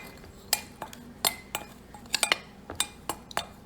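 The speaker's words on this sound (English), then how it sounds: "So I'm just going to put in half teaspoonful and mix it all in" A spoon mixes ginger powder into homemade Asian seasoning salt in a bowl, producing a run of sharp, close metallic clinks and scrapes at an irregular rhythm, about a dozen distinct taps.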